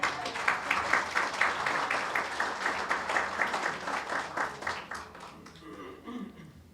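Church congregation at an Ibero-American Church of Christ gathering applauding, a sustained crowd clapping that holds steady for several seconds before thinning into scattered claps and a few voices.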